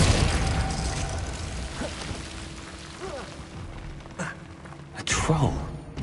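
A Confringo blast spell goes off in Hogwarts Legacy on PS5, with sharp booming bursts near the end rising over a steady bed of game ambience and tones.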